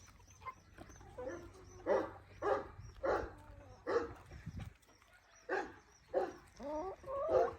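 Backyard chickens cluck and squawk in short, repeated bursts nearby on a cold day, with some higher calls toward the end.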